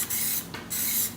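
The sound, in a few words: spraying Plasti Dip rubber coating from a can onto car rims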